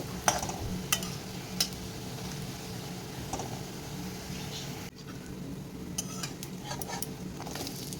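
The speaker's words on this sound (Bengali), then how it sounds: "দেখুন বেসনগুলো ভাজাগুলো আমি করে নিচ্ছি" Continuous oily sizzling of gram flour fritters frying in oil, with occasional utensil clicks and scrapes as they are stirred, a brief dip in the hiss midway.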